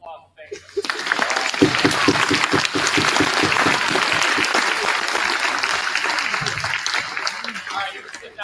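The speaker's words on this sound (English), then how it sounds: "give these teachers a long round of applause" Audience at a high school state track assembly gives teachers a long round of applause, dense sustained clapping swelling after a brief start and fading near the end, with crowd noise mixed in.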